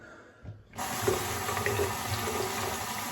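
A tap switches on and runs over a sharpening stone resting on a sink bridge, starting after a brief quiet bump and then pouring steadily and loudly without pause.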